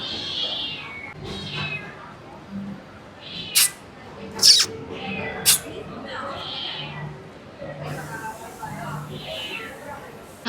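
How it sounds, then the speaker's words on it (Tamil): A cat meows several times at a busy Chennai food court, short sharp cries rising above the clatter and crowd noise while people talk nearby. "என்னடா மீயாவும் வருது, அதை பாருங்க"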